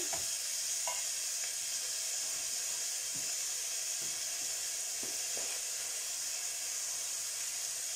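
Brussels sprouts, onions, lardons and pork sauté are stirred in a pan, with a soft, continuous sizzle and hiss and scattered light scrapes and taps of the stirring, fairly quiet throughout.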